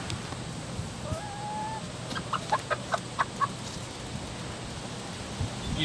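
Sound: chicken clucking

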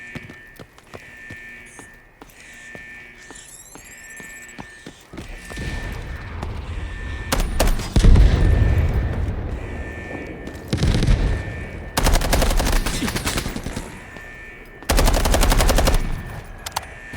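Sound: gunfire in a video game

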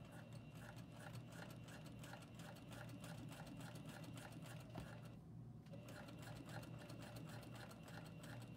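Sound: sewing machine stitching down elastic on fabric

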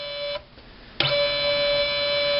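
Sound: torque sensor motor turning on test assembly machine

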